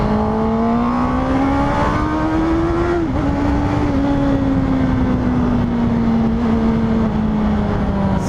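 A Honda CB650R motorcycle's engine drones loudly while riding, a steady, sustained tone that rises slightly, dips briefly, then eases gradually lower, heard alone under strong wind rush.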